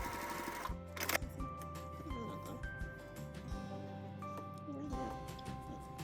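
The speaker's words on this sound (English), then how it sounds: "I'm using a quilting bar attachment on my Juki TL2010Q sewing machine." A Juki TL2010Q sewing machine with a quilting bar attachment runs quietly with a steady mechanical whir and rapid stitching of quilting lines, stopping and restarting in short stretches.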